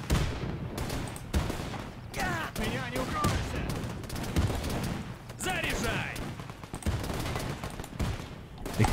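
Gunfire rattles through a WWII strategy battle in Men of War II, repeated sharp bursts and scattered shots over continuous combat noise, with brief voice snippets mixed in.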